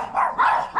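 A dog inside a house gives a quick run of loud, close barks, about three short bursts in under a second. No one is talking.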